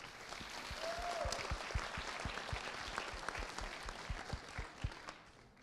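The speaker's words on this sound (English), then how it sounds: "Everyone give them a big round of applause" An audience applauds steadily, a fairly quiet wash of many hands clapping with distinct sharp claps popping out near the end as it thins.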